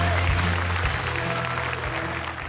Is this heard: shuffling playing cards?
no